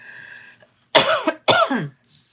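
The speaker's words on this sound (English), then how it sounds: "So sorry about that I'm coughing so much." Two harsh, close coughs in quick succession from a woman with a tickly throat and oncoming cold, following a faint hum, with no talking.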